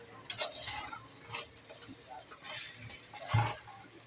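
A spoon stirs khichdi roasting in a pan over a low flame, giving soft scraping strokes and light clinks over a faint, steady sizzle.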